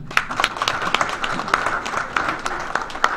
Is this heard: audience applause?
yes